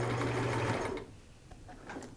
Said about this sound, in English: I'm tacking it with my sewing machine and not with the needle and thread